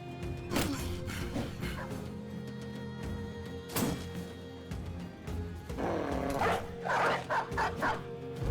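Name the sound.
dogs barking in a video game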